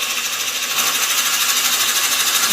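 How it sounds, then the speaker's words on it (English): A lathe turns while a roughly 18 mm drill bit bores a hole into the spinning workpiece, giving a steady, loud, hissing machine whir that holds evenly throughout. "So I'll slow the lathe down, and we'll fire it up"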